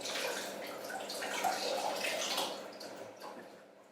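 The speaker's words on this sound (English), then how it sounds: "Wash my spoon a little bit." Running water from a tap rinsing a spoon in a kitchen, a soft steady splashing stream lasting a few seconds before tapering off, fairly quiet and alone.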